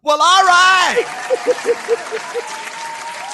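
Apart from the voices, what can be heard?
studio audience applause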